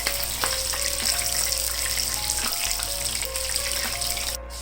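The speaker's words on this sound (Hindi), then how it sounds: "यहाँ पे एक साइड पे हमारी हो रही हैं टिक्कियाँ फ्राई" Mutton kabab patties fry on a tawa over low heat, giving a steady, close sizzle with a faint hum underneath and a few light clinks; no one speaks.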